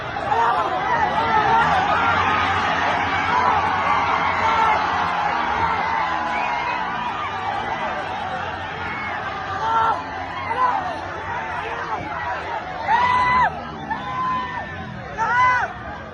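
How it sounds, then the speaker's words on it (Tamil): Party supporters at a political campaign rally cheer and clamor in a loud, continuous crowd din, with shouts and whoops rising above the babble throughout and sharper bursts of yelling near the end. "திருமாவளவன் எவ்வளவு சொல்லியும் தொண்டர்கள் ஆரவாரம் அடங்கவில்லை"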